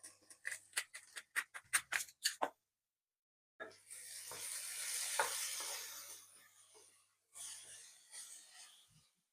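Potatoes and onions for an oil-free Spanish tortilla get stirred in a pan: a run of quick, close scraping strokes gives way to a soft sizzling rush that swells and fades, then returns briefly, with no talk.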